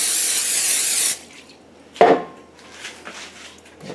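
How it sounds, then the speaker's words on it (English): A loud hiss of canola oil non-stick aerosol spray onto a pan for about a second, then a clunk of the pan and a few soft knocks, close by. "I like to spray this pan with some canola oil"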